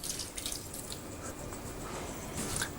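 Fresh water runs from a tap into a pot in a kitchen, a steady hissing, splashing stream heard close and alone for a few seconds.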